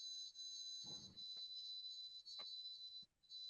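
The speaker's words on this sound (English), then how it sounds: "who got that beeping sound behind they stuff, man?" An electronic smoke-alarm-style tone sounds steadily and shrilly in the background, with a few faint thumps and rustles over it and a brief break near the end.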